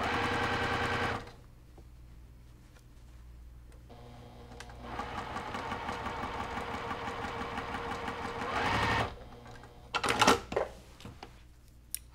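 A sewing machine stitches a quilt-as-you-go stocking with short stitch length, running in a rapid mechanical whir in two bursts separated by a quieter pause, followed by a few clicks and handling sounds.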